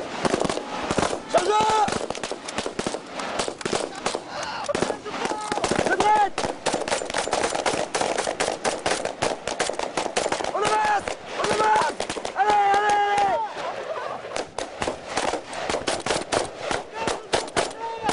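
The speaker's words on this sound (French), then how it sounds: "En faisant une répétition à tir à balles réelles" Live-fire automatic weapons during commando training with real ammunition, firing in long rapid bursts of cracking shots with brief pauses, loud and close, with voices calling out between bursts.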